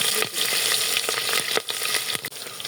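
Onions hit hot oil with panch phoron spices and bay leaves, a bright, crackling sizzle punctuated by several sharp scrapes and clacks of a spatula stirring them, close up and with no talk.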